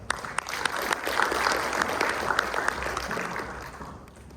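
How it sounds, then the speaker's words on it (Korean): An audience at a control and robotics systems conference claps for the keynote speaker, CEO of Neuromeca, starting with a few sharp claps that swell into full applause before fading. "큰 박수 부탁드리겠습니다"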